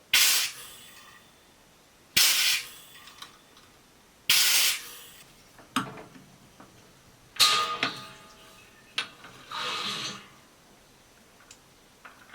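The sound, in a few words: CO2 gas purging hops in a hop drop kit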